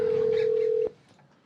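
A single steady electronic telephone tone sounds for under a second and then cuts off abruptly, leaving quiet background, near and clear.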